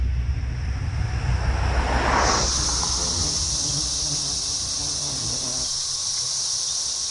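Periodical cicadas swarming in huge numbers: a steady, dense, high whirring drone that fills the air, with a brighter, piercing buzz rising partway through and holding to the end.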